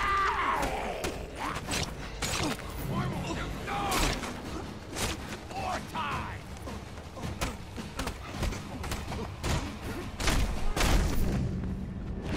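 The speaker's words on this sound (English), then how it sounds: "Explosion?" Explosions and mechanical clatter in the Mad Max video game, a series of sharp booms and impacts scattered across a busy, noisy stretch with no talk.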